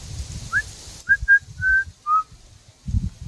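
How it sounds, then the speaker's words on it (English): A person whistles in a quiet cemetery, a handful of short, clear notes spaced apart over soft background rustle and low thumps. "if you whistle throughout here, spirits are supposed to whistle back at you"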